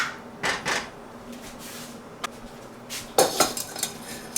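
A metal mixing bowl for an ice cream maker and a simple strainer handled for strawberry ice cream, giving scattered clinks and rattles in a few bursts, with a sharper cluster near the end, and no talking.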